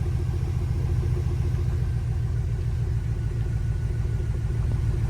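A 2008 Chevy Avalanche with a 5.3 V8 idles on its first start after timing chain work, with the check engine light on. It makes a steady, even low rumble, close and constant, with no voices.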